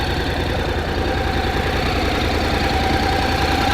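A Honda CTX700N parallel-twin 700 motorcycle engine runs at a steady idle, giving a close, even, low throbbing pulse.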